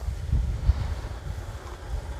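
Wind gusts buffet the microphone outdoors on a river boat trip, a steady low rumbling roar with a couple of brief thumps, no voices.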